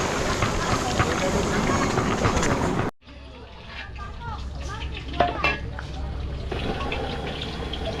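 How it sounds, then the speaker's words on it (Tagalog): Pork ribs frying in a pan of oil, outdoors in a rural Zambales setting: a loud, steady sizzle that drops off abruptly and gives way to a quieter, crackling fry, with faint voices and background noise. "nagpiprito na ng pork rib si Jepoy"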